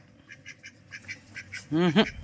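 Faint chirps lead into two loud, nasal duck quacks near the end, close and sharp.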